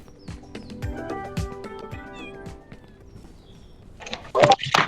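Cat meowing in the farming video game Ranch Simulator, a few short mews over faint footsteps and clicks, followed by a louder burst of rustling noise near the end.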